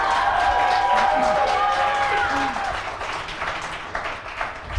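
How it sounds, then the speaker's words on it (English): An audience claps and cheers for a few seconds, then the applause thins out and fades under a speaker's voice. "An applause for Obamacare."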